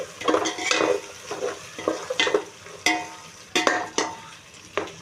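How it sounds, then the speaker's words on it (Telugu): Green chillies deep fry in hot oil for mutton biryani, with a close, continuous sizzle broken by repeated metallic clanks and scrapes of a spoon against the pan. "తర్వాత పచ్చిమిర్చి వేయాలి దాంట్లో బాగా బాగా డీప్ ఫ్రై చేయాలి పచ్చిమిర్చి"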